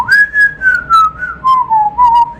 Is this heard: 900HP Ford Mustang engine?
no